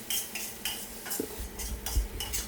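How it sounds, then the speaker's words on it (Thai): Pounded curry paste stir-fried over low heat in soybean oil in a wok: a utensil scrapes in a steady rhythm of strokes over a soft sizzle, close and moderately quiet. "ผัดด้วยไฟอ่อนนะครับไปเรื่อยๆ จนเครื่องผัดเริ่มเหลืองหอมก่อนครับ"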